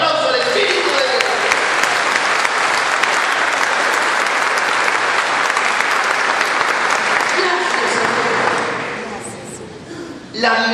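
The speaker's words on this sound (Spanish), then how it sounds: "Denle un aplauso al Espíritu de Dios." A large Pentecost congregation applauds loudly and continuously for several seconds, a thick roar of hands that fades toward the end before a brief final swell.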